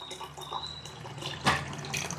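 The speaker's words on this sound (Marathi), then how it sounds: "यामध्ये आपल्याला भरपूर पाणी ओतून घ्यायचं आहे." Water is poured into an Agaro Regency multicook kettle with a steamer, a soft, close trickle and splash running through the short moment.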